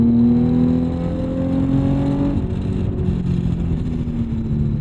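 A 2006 Infiniti G35 drives with a droning aftermarket-sounding exhaust, its steady low engine tone rising then dropping as it shifts, loud and continuous from inside the car.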